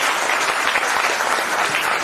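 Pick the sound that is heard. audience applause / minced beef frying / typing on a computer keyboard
audience applause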